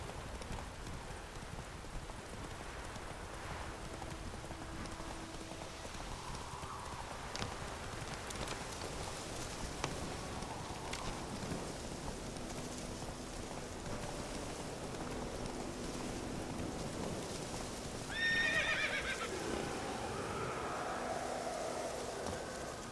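In the Witcher 3 video game, the horse Roach gallops through rain, its faint, steady hoofbeats under a hiss of rainfall, with a short louder burst near the end that may be a neigh.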